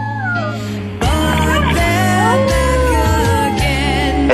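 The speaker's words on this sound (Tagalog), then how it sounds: "Ay, pusa." A cat meows with several drawn-out, wavering cries against a loud, steady background of music or voices throughout.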